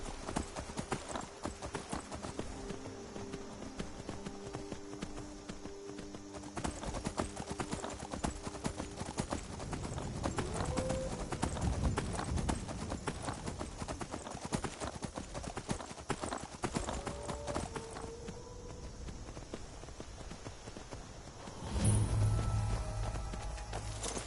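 Horse hooves clip-clop steadily in the Skyrim video game, a continuous rhythmic trotting that runs throughout, with a brief louder burst near the end.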